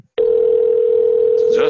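A telephone line gives off a steady, loud, continuous electronic tone that holds unbroken for well over a second, with nothing else over it.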